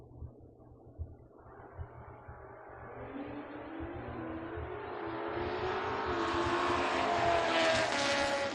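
A nitrous-powered drag racing Kawasaki and an S10 pickup launch at a drag strip, their engines rising from a low idle into a loud, climbing roar that builds steadily until it fills the scene.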